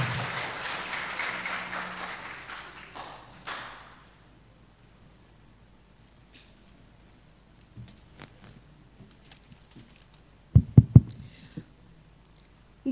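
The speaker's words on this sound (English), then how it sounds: "Ladies and gentlemen, please welcome her with a big applause." Audience applause greets a speaker at a public talk on challenges and opportunities for young people, a broad wash of clapping for about four seconds that fades to near silence, then a few scattered knocks and thumps.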